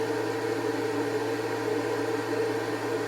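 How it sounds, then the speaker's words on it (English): A 600 watt electric kettle, closer to 700 watts, runs off an inverter in a camper van, giving a steady, loud, even hiss and hum that holds constant with no talk. "I'm just boiling my 600 watt kettle."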